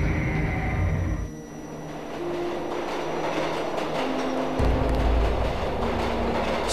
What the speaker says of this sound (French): Maintenant, j'entends un train, le métro.